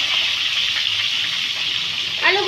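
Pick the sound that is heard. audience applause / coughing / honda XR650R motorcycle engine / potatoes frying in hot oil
potatoes frying in hot oil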